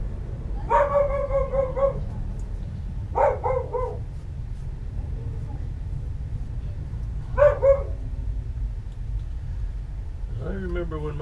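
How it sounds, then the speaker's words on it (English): A dog barks in short bursts, a few separate volleys spread across the stretch, moderately distant, over a steady low hum, with speech at times. "That dog's not going to stop."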